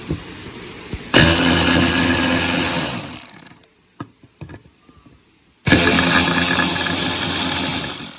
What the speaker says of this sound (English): I'm using this impact wrench right here, which doesn't have enough torque to snap off a stud